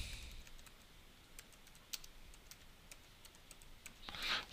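Sparse, light key taps on a computer keyboard as a name is typed into a chat window, irregular clicks spread across several seconds, quiet and close, ending with a slightly louder cluster.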